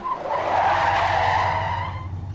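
A car skids with a long, loud tire squeal that swells and then fades over a low engine rumble, staged as a radio drama sound effect.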